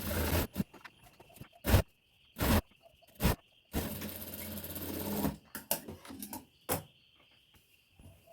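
Sewing machine stitching a folded-in fabric lining on a storage bag, running in several short bursts and one longer continuous run, close and loud, with brief pauses between stitches and no talk.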